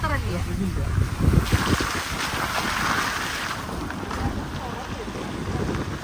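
Strong wind buffets the microphone in a steady roaring gust, with voices talking faintly underneath.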